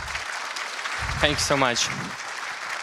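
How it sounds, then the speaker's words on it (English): A .NET conference audience applauds the speaker with a broad, steady wash of clapping throughout, while someone briefly speaks thanks over it near the middle. "let's give a round of applause for Dino"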